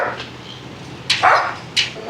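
Dogs at a shelter for paralyzed dogs barking close by, with two or three sharp, loud barks breaking out in quick succession over a quiet background.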